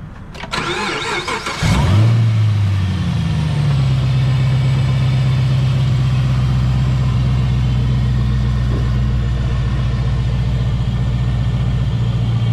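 A supercharged 2015 Camaro ZL1 cranks and fires with a loud, close burst, then settles into a steady, deep rumbling idle that holds for about ten seconds, with no talking.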